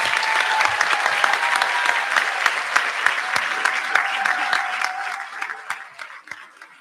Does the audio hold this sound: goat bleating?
no